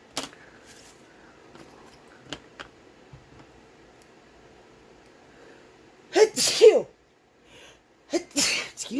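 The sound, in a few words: a person sneezing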